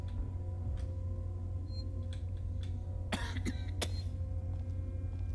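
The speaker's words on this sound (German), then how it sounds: "Hust, hust, hust." A few sharp, clustered coughs come from a player during a German let's play of the survival horror game Alien: Isolation, set over a steady low hum with faint ticking.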